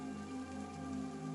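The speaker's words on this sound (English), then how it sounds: "It was raining." Steady rain falls inside a tiny bottled ecosystem in The Rain Garden video game, a soft continuous patter over a droning ambient hum, brief and unbroken.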